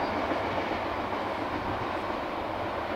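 A CSX freight train rumbles steadily past on the tracks, a continuous roar of rolling cars with no voices.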